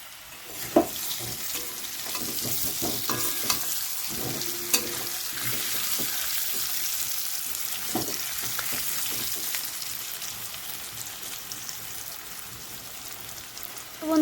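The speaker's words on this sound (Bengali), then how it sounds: "আলুগুলো ভেজে নিচ্ছি" Potato pieces fry in hot oil for luchi with aloor dum, a steady close sizzle broken by frequent clinks and scrapes as they are stirred, with no voices.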